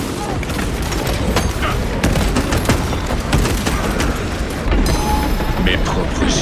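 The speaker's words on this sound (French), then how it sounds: "Grenade frag lancée." Frag grenade blast and sustained gunfire in the video game Warhammer 40,000: Space Marine 2, a dense continuous barrage of shots and booms with someone speaking French over the battle.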